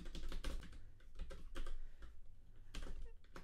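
Close, quick keystrokes on a computer keyboard type out a Python function in a Jupyter notebook, coming in uneven bursts with short pauses between them.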